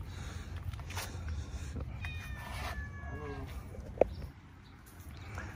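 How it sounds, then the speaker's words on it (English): Several cats in Luzon, Philippines meowing and yowling in a busy outdoor spot, drawn-out cries rising and falling over a low rumbling background, with a sharp knock partway through. "see, look at this, a lot of cats here."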